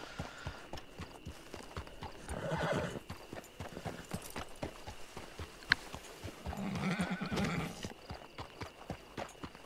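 Horse ridden across a desert stretch in Red Dead Online, rhythmic clip-clop of hooves at a steady gait, with two drawn-out whinnies and snorts rising above the footfalls, close and fairly quiet.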